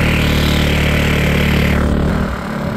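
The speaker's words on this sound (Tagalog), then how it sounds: "Yan guys, testing naman namin magmotor. Hiniram namin ng motor ng kapatid ko." A borrowed motorcycle's engine roars loud and close during a short test ride on a street in Bulacan, a steady, throaty drone that drops off sharply near the end as the throttle eases.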